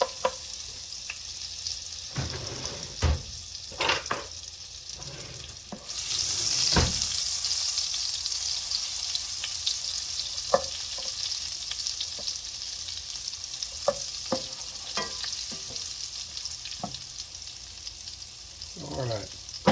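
Onions cook in melted butter and olive oil, a sizzle that swells louder as they hit the pan, with intermittent clanks and scrapes of a utensil stirring close by.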